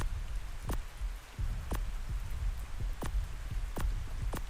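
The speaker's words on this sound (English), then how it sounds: "Oh, it's raining. That's fantastic." Rain falling in the game Ark Survival Ascended, a steady soft patter under low rumble with occasional sharp thuds spaced a second or so apart, without talking.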